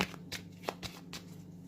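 Playing cards riffle in quick, crisp bursts, four or five flutters in a row, close up and fairly quiet over a low steady hum.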